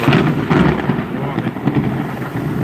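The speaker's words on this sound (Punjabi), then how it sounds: "ਖੜਕ ਰਿਹਾ ਜੀ ਬੱਦਲ" Thunder rolls in a loud, rumbling swell during a heavy rainstorm, with rain continuing underneath.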